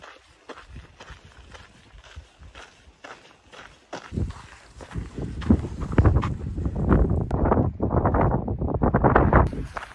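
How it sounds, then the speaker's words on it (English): Strong wind buffets the microphone in gusty, rumbling bursts that grow louder halfway through, mixed with crunching footsteps. "It is so freaking windy"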